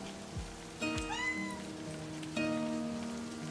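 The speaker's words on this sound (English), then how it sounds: "I forgot there was a cat." A cat in the video game Livber: Smoke and Mirrors meows twice, fairly close but soft, over a steady backdrop of falling rain.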